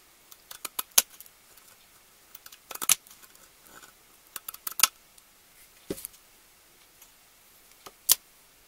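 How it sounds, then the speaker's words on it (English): Scissors snip through a rhinestone bling strip in a series of sharp, close, quiet clicks and crunches, scattered irregularly with short gaps between cuts. "You can see it just cut right down the middle."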